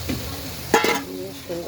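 Koi fish added to a hot pan for a Bengali chorchori with onion paste, giving a soft steady sizzle with a brief louder splattering burst near the middle, close up.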